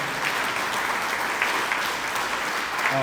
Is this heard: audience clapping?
yes